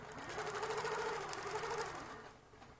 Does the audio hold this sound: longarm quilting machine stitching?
yes